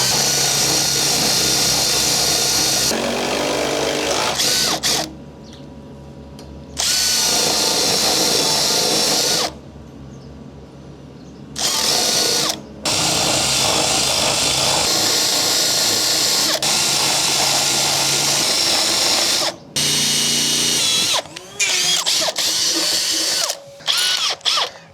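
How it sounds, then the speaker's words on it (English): A power drill driving a 25 mm spade bit through timber whines loudly and steadily in long close runs, separated by brief pauses where the motor stops and then restarts. "Because I've gone through with the drill bit"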